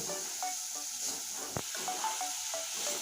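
Grated coconut and jaggery being stirred in a pan as they fry: a soft steady sizzle with intermittent scraping and clinking of the spoon against the pan, and one sharper knock partway through.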